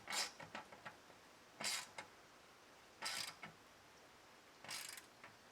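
Bolt being snugged down with a ratchet on a Weber Q gas grill burner: four short bursts of quiet ratcheting clicks, each about a second long, separated by pauses.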